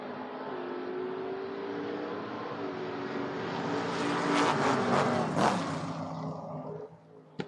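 Drag race cars, a Vega against a Mustang at a door-wars event, roar off the line together and build to a loud, rising engine howl, then fade suddenly as they pull away.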